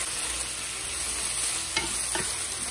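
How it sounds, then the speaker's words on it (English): Fried pork tossed in a pan of oyster sauce, sweet black soy sauce and palm sugar hisses with a steady, fairly loud sizzle, broken by two quick spatula scrapes partway through. "Stir fry really well."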